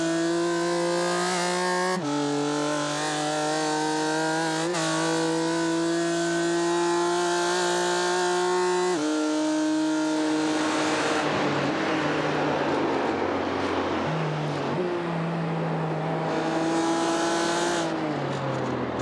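BMW M4 GT4 race cars in a sim racing game roar at high revs with stepped gear changes. Several engines drone together, loud and sustained, with rising and falling pitch as the cars shift and brake.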